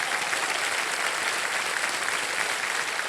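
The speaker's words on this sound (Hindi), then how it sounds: "एक बार तालियों के साथ उनका स्वागत करिएगा।" Steady applause from a TV game show studio audience welcoming a contestant's relative, dense and sustained throughout at an even level, with no speech over it.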